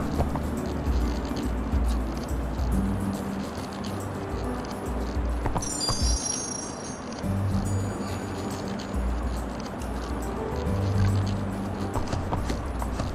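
Horse hooves clip-clop in a steady galloping rhythm in the Barbie Horse Adventures video game, running continuously with a short chime-like game effect partway through.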